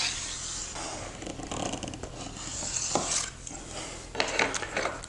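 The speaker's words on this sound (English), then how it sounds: "And I can just clean it up with this plane iron." A steel plane iron scraping and shaving excess vinyl tee edging along the edge and rounded corners of a cabinet door, giving soft, irregular rasping strokes with light clicks, close up, no talk.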